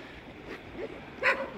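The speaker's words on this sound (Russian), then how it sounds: "Собачки недовольны." Dogs bark a couple of times at a distance beside a flooded street, short sharp yelps rising over a quiet wash of water and city background.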